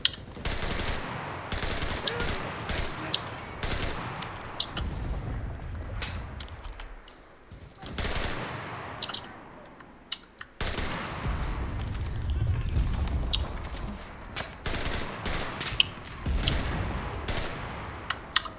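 Bursts of rapid machine-gun fire and scattered single shots ring out in the Enlisted game, loud and close, coming in repeated volleys with short lulls between them.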